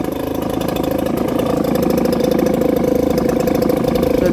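A Mercury 4hp two-stroke outboard engine runs steadily at idle, a close, loud, buzzy rattling drone with a rapid even pulse, rising slightly partway through, no talking.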